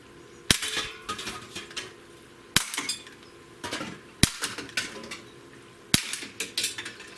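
Walther PPQ M2 pistol firing at steel targets outdoors, four sharp single shots spaced about two seconds apart, each followed by a ringing metallic clang from the struck steel.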